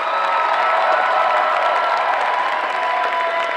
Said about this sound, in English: let's have one more final round of applause for all of our contestants